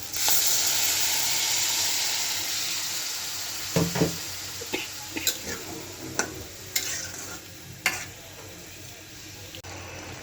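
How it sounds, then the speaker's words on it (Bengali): Potato and bitter gourd curry sizzles loudly in a pan as water goes in, the steady hiss settling into quieter bubbling broken by scattered clinks and scrapes of a spoon against the pot. "কষানো হয়ে গেছে, জলটা দিয়ে দিব।"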